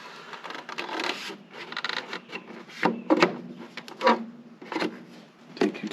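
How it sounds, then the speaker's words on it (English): The metal cover is slid back onto a Bauer wood plane, with close, scraping, rubbing strokes and small knocks in uneven bursts. "Just take your cover, slide it in here."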